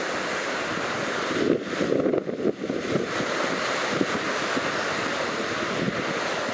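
Strong wind roars across the microphone over the heavy wash of rough sea waves at Washaway Beach, Washington, a dense, continuous rushing with swells rising and falling.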